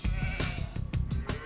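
Sheep in the Age of Empires 2 video game bleat repeatedly in short overlapping cries, loud and close with no voices.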